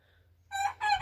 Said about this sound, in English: You gonna crow? And crow one more time before I end the video?